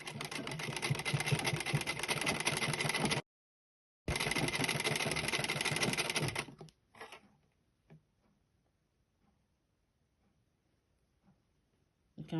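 A sewing machine stitching hijab fabric along a curved cuff runs in a steady loud whirr, stops briefly, resumes for a couple of seconds, then gives way to near silence with a few faint clicks.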